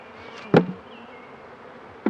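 A honeybee swarm being installed in a new beehive, a continuous close buzzing hum with a couple of sharp knocks.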